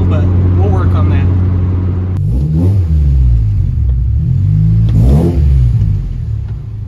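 A 1994–1997 Honda Accord engine revs loudly with a throaty exhaust through a newly installed cat-back system, pitch climbing and falling through several pulls, close by and continuous.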